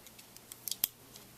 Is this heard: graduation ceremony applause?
no